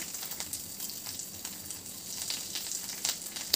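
Potatoes for egg curry sizzle in hot oil, a steady crackling fry with scattered sharper pops, close and moderately loud, without talk.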